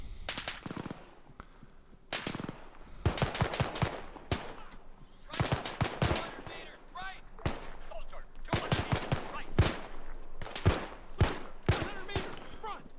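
Suppressing gunfire in the WW2 combat game Arma 3, with repeated bursts of automatic fire crackling in clusters, some near and loud, others more distant, with someone talking between volleys.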